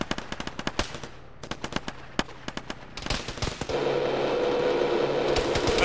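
Bursts of automatic gunfire and single shots crackle in a ShackTac military video game, sharp cracks scattered irregularly at moderate distance before a denser, sustained volley takes over.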